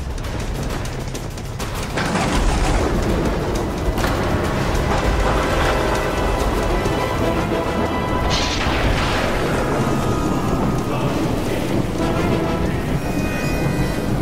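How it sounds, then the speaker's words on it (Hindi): Heavy rain pours steadily while rumbling thunder rolls and booms throughout, a dense, loud storm roar with surges of intensity, in a TV drama scene. "तुलसीदास, इतनी बारिश और तूफान में कहां जा रहे हो?"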